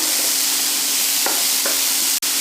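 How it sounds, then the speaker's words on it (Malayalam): Onion pieces sauté in oil in a pan, a loud, dense, unbroken sizzle close up, with a couple of faint stirring scrapes and a brief click near the end. "സവാള ചേർത്ത് നമുക്ക് നന്നായിട്ടൊന്ന് വഴറ്റിയെടുക്കണം"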